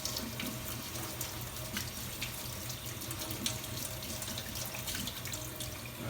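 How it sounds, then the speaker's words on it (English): Water pouring steadily through a wet mesh screen during a flow test, a continuous splashing, hissing rush like a running tap, even in level and close, with no voices. "water is flowing through the screen"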